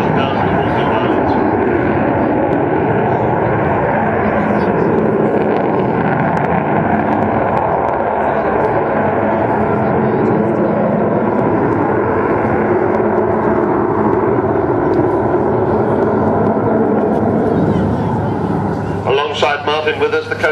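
A Vulcan bomber flies at the 2009 Cosford airshow, a loud, sustained, broad jet roar that fills the whole stretch, with a commentator's voice over the public address throughout.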